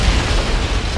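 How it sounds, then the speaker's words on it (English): A large reenactment explosion at the Husky Superior oil refinery, where an air and hydrocarbon mixture ignited, gives a loud, sustained rumbling blast with deep low-end roar filling the full second. "there was a large explosion"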